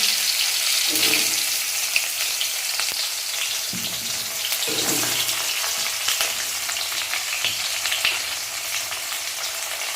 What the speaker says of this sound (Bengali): এই যে দেখো তেলটা অনেকটাই তেল আছে, এর মধ্যে পটলগুলো দিয়ে দিলাম